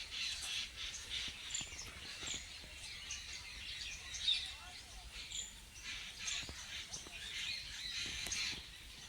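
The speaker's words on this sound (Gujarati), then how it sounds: "પક્ષીઓ ચહલ પહલ કરે છે." Birds chirping and calling around a Mahadev temple outdoors, faint repeated tweets and calls over soft background noise, with a crow among them and insects faintly audible.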